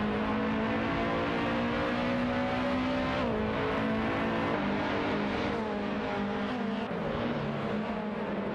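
Race car engines, including a Toyota Corolla, drone in a racing video game, several steady high-pitched engine tones layered together with pitch shifts as cars shift gears and jostle for position.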